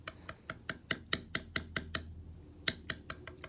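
Leather chap parts being tooled and burnished, a series of sharp, close knocking strikes in a quick irregular rhythm, some louder than others, with a brief pause before a few final hits.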